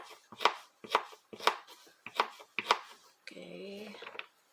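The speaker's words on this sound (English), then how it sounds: "Now we're cutting the garlic scapes." A knife chops garlic scapes on a cutting board for fried rice, five crisp, evenly spaced strokes sounding close and clear, followed by a brief clatter of something being set down.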